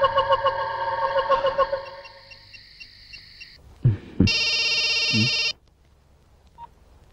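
A telephone rings in a Telugu horror movie scene: a steady electronic warbling ring for about three and a half seconds, then a short burst of a brighter, louder ring. A low hum runs underneath and there are no voices.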